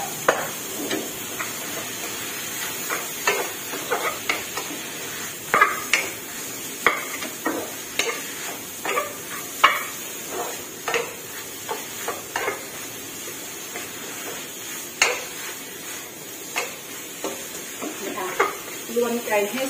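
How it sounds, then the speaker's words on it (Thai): Chicken being stir-fried with roasted chili paste in a pan for a Thai curry, a steady hiss with frequent scraping and clinking of a utensil against the pan, close by, under occasional talk. "หลังจากคั่วพริกหอมแล้วค่ะพี่น้องใส่ไก่ลงไปค่ะ"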